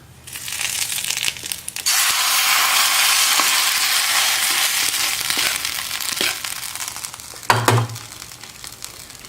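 Mustard seeds crackle and sizzle loudly in a little hot oil for tempering coconut chutney, a steady broadband hiss with small pops, a brief stir or clatter near the end.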